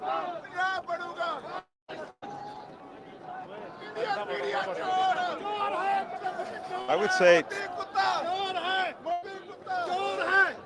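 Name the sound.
large crowd chatter at a Khalistan Referendum vote in San Francisco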